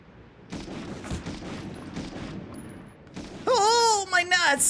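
Scattered gunfire in the World War II shooter Medal of Honor, a string of sharp shots over game ambience, followed by a loud rising and falling electronic or screaming tone near the end.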